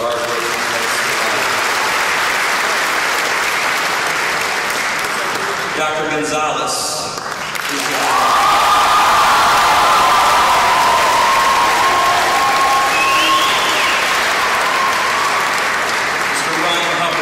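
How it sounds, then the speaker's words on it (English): A graduation ceremony crowd at City High School breaks into sustained, loud applause that fills the hall, with cheering mixed in and a speaker's amplified voice over the clapping partway through. "please give him a nice round of applause for hard work"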